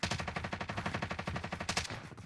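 Rapid automatic gunfire in a video game, a dense run of evenly spaced loud shots like a machine gun firing a long continuous burst, with no talking over it.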